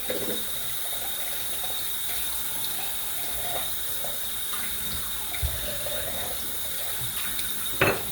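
Hot water runs steadily from a tap into a sink during face rinsing after a peel, a continuous close hiss and splash with a few small knocks and splashes.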